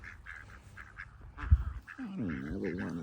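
Ducks on a farm quack in a few short nasal bursts near by, followed by a person speaking.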